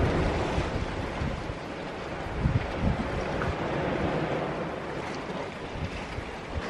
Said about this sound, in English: It is super windy this morning.